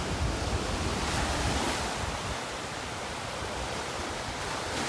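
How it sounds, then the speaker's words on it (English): Steady onshore wind blasts across a beach in North Naples, Florida, a loud, continuous broadband roar of gusting air buffeting the microphone, with surf blended underneath and no talking. "You hear that wind blowing."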